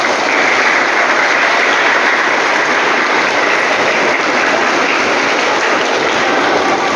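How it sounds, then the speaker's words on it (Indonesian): A crowd applauds kindergarten children at a gathering, a dense, sustained roar of clapping from many hands that holds steady for several seconds. "tepuk tangan untuk anak-anak TK"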